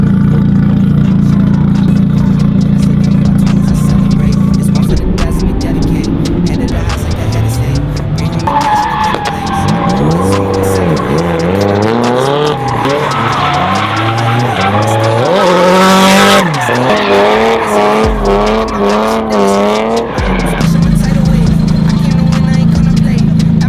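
A Nissan S13 drifts hard with its engine roaring loud and close, tires squealing in long wavering howls as revs rise and fall, while people talk over the noise.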